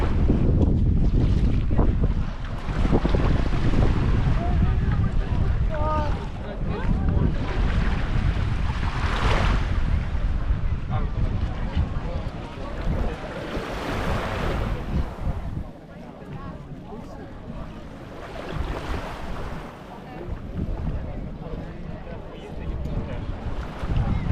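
Constant loud wind buffeting the microphone with surf and waves at Baby Beach on Aruba, a steady roar that hardly lets up throughout.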